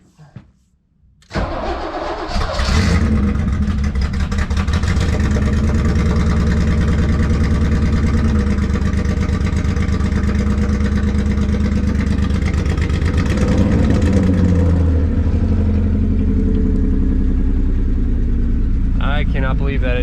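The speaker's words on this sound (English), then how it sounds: "I cannot believe that it just started up. It's idling." A BMW E30 project car, being built up with a turbo, cranks briefly after a quiet moment, catches and settles into a steady, loud idle up close, its rhythmic engine note continuing for the rest of the clip.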